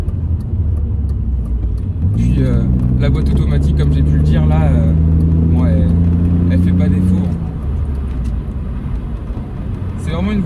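A BMW Z3 2.2 six-cylinder convertible driving with the top down, its engine droning low and steady as revs rise and hold, with someone talking over it throughout.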